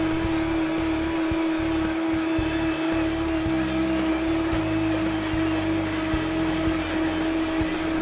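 A blender whirs continuously, blending a green drink with a steady, loud motor drone and no voices.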